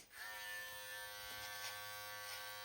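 Electric hair clippers with a 1mm guard buzz steadily up close, a bright motor drone with a slight change in pitch as they cut hair, no talking over it.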